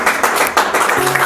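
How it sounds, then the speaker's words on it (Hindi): Applause in a comedy-drama short film as a company's top performer is announced, a dense burst of clapping from a group, fairly loud and steady throughout with faint voices beneath. "तालियां।"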